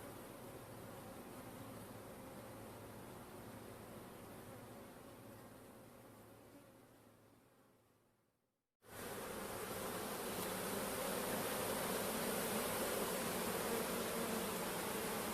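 A dense, steady buzz of many honeybees, including drones from a laying-worker colony, swarming close by at the hive, dipping briefly into near silence before the buzzing returns louder.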